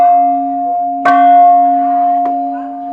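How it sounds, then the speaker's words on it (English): A temple bell at Manuha Temple in Bagan, Myanmar, struck twice, each strike ringing out loud and close over a sustained metallic hum that lingers between hits. "you ring the bell 3 times and then you hit it on the ground for a 4th strike"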